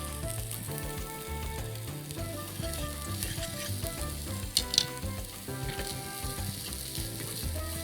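Onions frying in oil in a pan in a kitchen, a steady loud sizzle with a few clinks of a utensil stirring and faint background tones.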